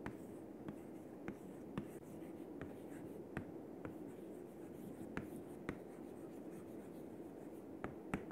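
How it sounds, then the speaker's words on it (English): Hand writing during a lecture, with soft irregular taps and strokes of pen or chalk over faint room hum; quiet and close, no talk. "first let me write what is the title"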